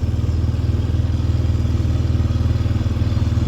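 A quad bike rides through open fields in Texas, its engine giving a loud, close, steady putter with a fast, even pulsing throb and some rattling clatter.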